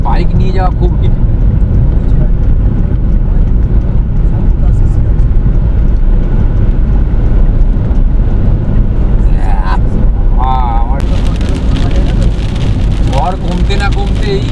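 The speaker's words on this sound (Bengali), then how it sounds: "এখন বৃষ্টি ঝড় দুটো একসাথে হচ্ছে পুরো একদম" Heavy rain and gusting storm wind during a cyclone on a mountain road trip, a loud, dense, continuous roar with traffic noise mixed in.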